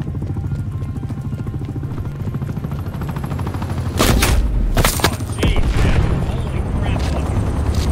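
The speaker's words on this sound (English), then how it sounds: "Enemy attack helo above." An enemy attack helicopter drones overhead in a first-person shooter match, a steady rotor hum under loud bursts of gunfire and explosions that build midway, with a voice talking over the din.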